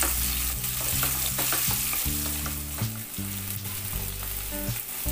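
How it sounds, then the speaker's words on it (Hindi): Long-sliced onions fry in a pan with a dense, steady sizzle that runs throughout, while a looping melodic tune plays loudly over it. "अब हम इसमें डालेंगे प्याज, इसे भी हमने लंबे आकार में काट लिया है, और इसे गोल्डन ब्राउन होने तक फ्राई करेंगे।"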